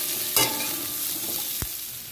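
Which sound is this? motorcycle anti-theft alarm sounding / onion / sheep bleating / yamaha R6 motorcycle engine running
onion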